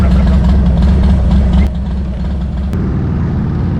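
A motorcycle engine idles with a loud, steady, low rumble close by. The tone dips slightly partway through, and two brief clicks come through before it settles again.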